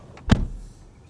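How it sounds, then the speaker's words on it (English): A Lucid Air car door shuts with a single solid thud, close by, followed by a short fading rumble in an otherwise quiet space. "if I close the door"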